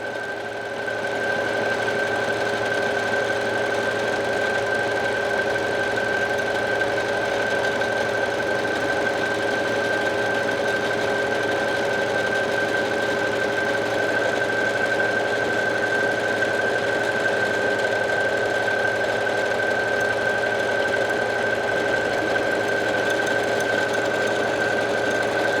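A sewing machine runs steadily while stitching a buttonhole on a pleated skirt waistband, a continuous whirring mechanical hum with a faint high tone, unbroken and close for the full duration.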